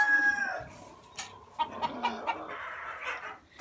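Farm chickens clucking and crowing close by, a rooster's call at the start followed by scattered clucks and rustling, fairly faint overall.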